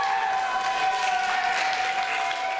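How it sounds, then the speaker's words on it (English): Wrestling crowd at a live W3L event applauding steadily after a shoulder block, a continuous wash of clapping from a packed room with no break across the short stretch. "The crowd liking that one."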